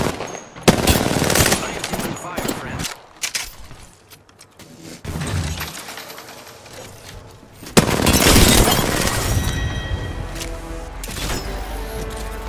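Rapid machine-gun fire and gunshots in an Apex Legends match, with sustained automatic bursts, a brief lull, then a loud renewed barrage and breaking-glass crashes, with game voice lines over the shooting.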